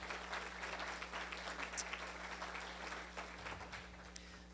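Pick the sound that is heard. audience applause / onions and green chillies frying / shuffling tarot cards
audience applause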